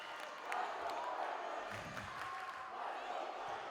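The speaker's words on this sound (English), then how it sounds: "Both sets of fans here cheering on their teams." Crowd of volleyball fans at a varsity state final, Franklin against Newton North, cheering steadily in a large gym, a continuous roar with swelling shouts and scattered whoops over several seconds.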